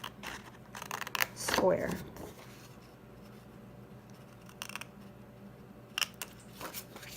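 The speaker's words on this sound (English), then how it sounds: "the next piece we're going to cut off is this section down here on this bottom" Scissors cutting through a milk carton to make a box, a few short close snips and crinkles with pauses between, with a person talking briefly.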